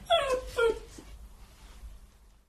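A dog named Fido whimpers close by, giving two rising whiny yips followed by a softer fading moan.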